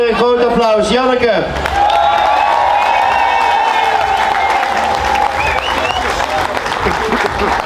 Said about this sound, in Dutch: Geef ze nog één keer een groot applaus.